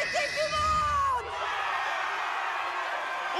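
Arena crowd in the Beyblade Burst Turbo anime cheering, whooping and yelling after a battle, a loud swell of voices that drops briefly and then carries on over music and a speaking voice.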